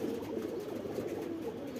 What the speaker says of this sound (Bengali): নামছে মাশাআল্লাহ সব কবুতর।